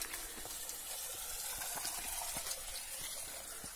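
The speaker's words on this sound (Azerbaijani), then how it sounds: "buradan yanında belə bir bulaq da var" Spring water flows beside a campsite near Qaladərə village in Şamaxı, Azerbaijan, a soft, continuous trickling wash, faint and steady with no voices.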